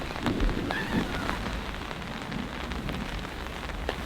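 Rain pours steadily onto a Kelty Late Start tent during a downpour, a dense close patter with occasional heavier drops and no voices.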